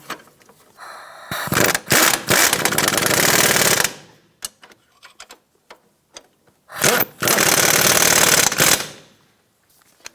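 Front strut assembly nuts on a 2004-2009 Toyota Prius are run down with a power tool in two loud, long rattling bursts separated by a quieter pause with small clicks.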